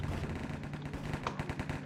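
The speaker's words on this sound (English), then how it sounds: "Joey actually takes down Jam with a deagle" Rapid gunfire in a competitive shooter video game match, with Desert Eagle pistol shots mixed into a dense, steady stream of overlapping cracks at moderate loudness.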